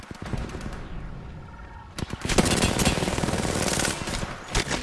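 Rapid automatic gunfire in Apex Legends, with dense bursts of loud close shots and sharp cracks, starting with scattered single shots before a sustained volley.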